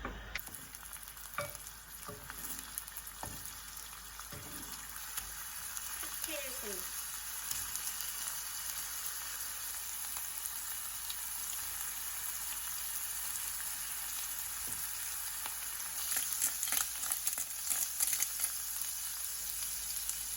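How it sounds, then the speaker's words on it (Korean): Minced garlic fries in olive oil in a home kitchen pan, a steady close sizzle with occasional stirring clicks and scrapes throughout. "팬에 올리브 오일을 두르고 그 통마늘이 없어서 그냥 다진 마늘 을 어, 넣을 거예요."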